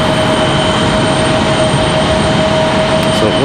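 Airbus A320 airliner at Raleigh-Durham airport in stormy weather, a steady loud broadband engine roar with a sustained whine, continuous and close throughout with no talk.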